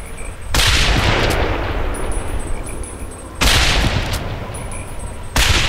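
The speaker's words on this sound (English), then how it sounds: "All these missed shots" Gunfire from a weapon in the Fallout 3 video game with the Point Lookout Reborn mod, loud sustained bursts of shots repeating in three long waves with brief lulls between them, no voices.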